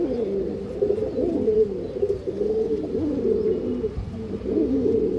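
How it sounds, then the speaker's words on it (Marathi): Good-breed pigeons, males among them, coo continuously in a dense, low throaty chorus, several birds close by, with rolling phrases overlapping throughout. "कन्फर्म कबूतर चांगल्या ब्रीडचे आहेत असे हे कबूतर आहेत"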